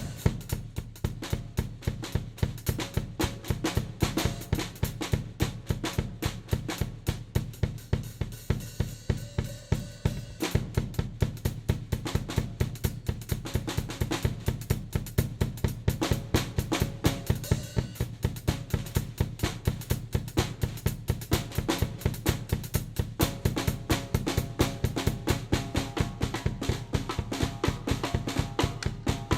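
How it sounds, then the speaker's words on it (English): A DW ECO-X snare drum is played in steady fast rhythmic strokes, with a brief pause partway through, then a long continuous roll-like pattern, close and clear. "just the standard sound of what you're gonna get when you get a DW snare"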